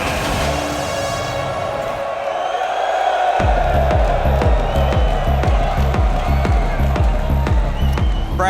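A large arena crowd at the RLCS World Championship 2023 Rocket League event roars continuously, with a pounding rhythmic beat kicking in partway and an announcer's voice over the din.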